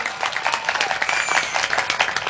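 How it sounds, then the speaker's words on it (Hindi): Audience at a poetry gathering (kavi sammelan) breaking into applause, a close, loud burst of many hands clapping in quick irregular patter that holds steady throughout, with no talking. "राकेश कुंडल जी के सम्मान में एक बार जोरदार ताली बजा दें आप।"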